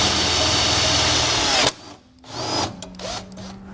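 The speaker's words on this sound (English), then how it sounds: "So now we're just going to go up through that hole with our 1/8 inch drill bit this time." A power drill whirs steadily as a 1/8 inch bit bores a pilot hole for a side step on a 2020 Toyota Tacoma, then the motor cuts out and a few short, quieter revs follow.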